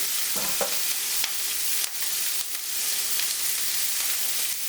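Filet mignon sizzling loudly in a pan with butter and herbs, a steady close frying hiss with a few sharp scrapes and clinks of a spatula against the pan.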